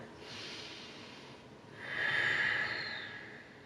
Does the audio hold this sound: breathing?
yes